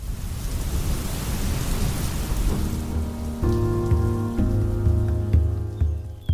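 Steady rain falls in a continuous broadband hiss, with a sustained tonal hum and musical notes entering partway through over the downpour.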